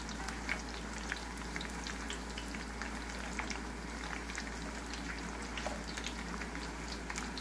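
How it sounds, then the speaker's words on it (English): Homemade corn tortillas frying in hot oil, a continuous crackling, bubbling sizzle with dense small pops, steady and fairly quiet over a low hum. "push them down a little bit on the oil to make sure they're frying up nice and crispy"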